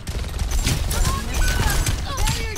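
Rapid bursts of video game gunfire crackle close and loud, mixed with mechanical clicks and brief tonal effects over a low rumble, with a voice speaking faintly underneath.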